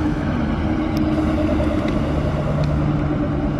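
A V8-engined car at an international auto show, a continuous low engine rumble with a steady idle hum and faint clicks above it, no voices.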